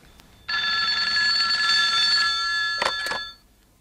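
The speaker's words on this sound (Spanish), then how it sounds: "alcanzó a descolgar el teléfono de la sala cuando sonaba por primera vez" An indoor living-room telephone rings loudly and close by, a bright, sustained electronic trill that starts abruptly, holds for about two seconds and ends with two short chirps before cutting off.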